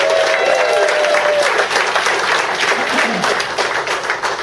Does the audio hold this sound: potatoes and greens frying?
no